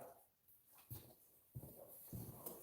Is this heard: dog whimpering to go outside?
yes